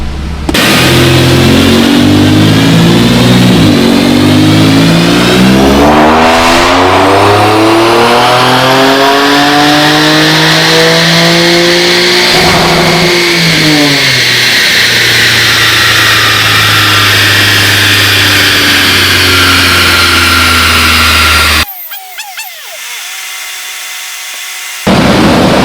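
Boosted Infiniti Q50 on a dyno with the hood closed, engine loud and close as it climbs in one long sweeping pull to high revs, then the note cuts off abruptly into near silence before a brief final burst.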